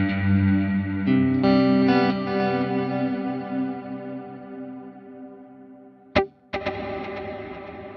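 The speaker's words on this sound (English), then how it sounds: "what we have here is a delay that has its own built-in reverb" Sustained guitar chords ring out through a Helix delay effect with built-in reverb wash, repeats trailing off, followed by two sharp plucked attacks near the end.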